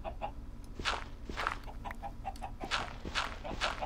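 Chickens in the Minecraft video game cluck in short repeated bursts amid soft footstep-like taps, fairly quiet and without talk.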